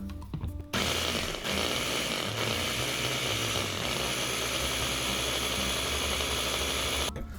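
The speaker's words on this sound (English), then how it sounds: "go ahead and reassemble your food processor, and then we're just going to blend this until everything is combined" Food processor running steadily at full power to blend cheesecake crust ingredients, a loud dense whirring drone that starts abruptly and stops near the end.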